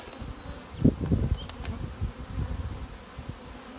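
Low droning buzz of many honeybees close by in an open hive, steady and busy with brief louder swells, plus a faint thin whine above.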